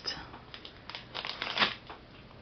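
Small scissors cut through thick packing tape with dry crinkling snips and tearing bursts, close and irregular, during an unboxing of books.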